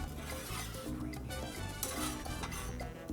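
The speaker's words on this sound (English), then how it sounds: "we just keep stirring them up" Peanuts get stirred on a 22-inch Blackstone griddle, soft continuous scraping and light rattling of nuts against the metal surface, close by and fairly quiet with no talk.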